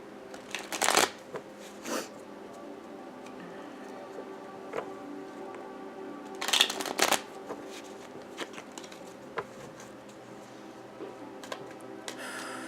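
Tarot cards are shuffled in quick riffling bursts with pauses between, plus soft ticking and handling sounds, close and fairly quiet.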